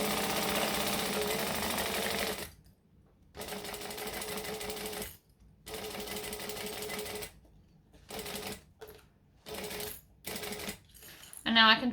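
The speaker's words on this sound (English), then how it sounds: "And now I can trim off this one because we love chain sewing in this house." A sewing machine chain-sews through gripping foam, running in loud close bursts of rapid stitching separated by short silent pauses, with a voice briefly heard near the end.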